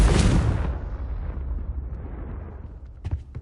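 Confringo fire spell from Hogwarts Legacy erupts in a loud, close explosive burst, then its fiery rumble fades away over a few seconds, with a few faint crackles near the end and no talk.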